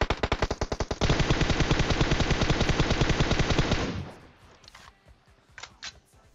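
Rapid automatic gunfire from PUBG starts with a few spaced shots, then becomes a loud, dense burst lasting about three seconds. It cuts off abruptly and is followed by faint scattered clicks and distant shots.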